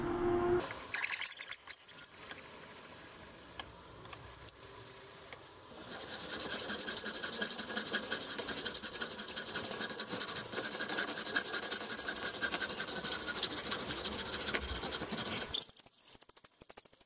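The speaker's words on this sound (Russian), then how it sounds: "когда буду равнять при помощи напильника торец прутка" A hand file evens the end face of a metal rod with a close, continuous rasping scrape that lasts about ten seconds. Brief scratches and handling noises come before it.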